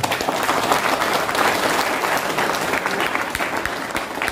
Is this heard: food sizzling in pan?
no